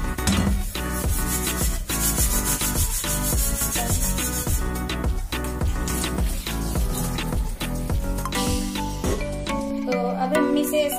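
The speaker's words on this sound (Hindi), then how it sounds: "ऐसे डाल के रगड़ देना है, ये फिर साफ हो जाएगा" Burnt, oily kadhai being scrubbed clean by hand, rapid repeated rough rubbing and scraping strokes close up, dense and loud throughout with a few clanks near the end.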